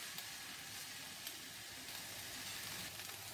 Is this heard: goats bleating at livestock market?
no